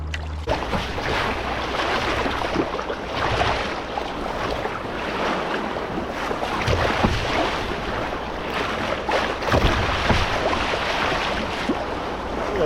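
River water from the rapids of the wild Sacramento River splashes and rushes over a kayak in a continuous loud wash, with wind buffeting the microphone throughout.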